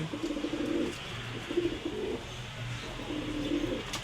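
A Narayanganj king pigeon, an old flying breed, coos in low repeated rolling phrases, close by and fairly steady across a few seconds with brief pauses between calls.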